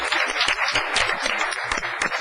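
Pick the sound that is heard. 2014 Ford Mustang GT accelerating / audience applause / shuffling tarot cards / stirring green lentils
audience applause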